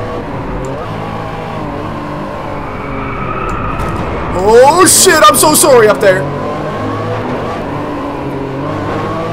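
A Ferrari F50 race car engine drones steadily in the racing game DriveClub, rising into a sharp revving, skidding surge midway before settling back, while someone talks over it.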